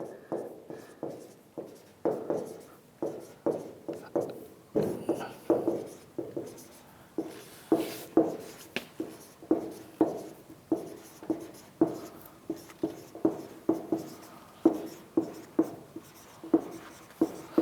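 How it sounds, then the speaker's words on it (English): Marker or chalk writing on a board during a syntax lecture, a long run of quiet rhythmic strokes and taps, close and steady, with no talk over it. "Let's write"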